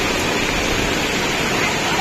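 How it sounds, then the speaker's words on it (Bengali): A heavy rain and wind storm pours down as a dense, unbroken roaring hiss, loud and close, steady across the whole moment. "এত বড় ঝড় বৃষ্টি মনে হয় আমাদের এখানে এবছরে হয়নি"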